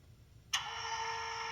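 A DCC sound decoder in a model SP&S RS3 locomotive plays a GE diesel engine starting. A sharp click is followed by a steady, tonal engine hum that stays on at a modest volume.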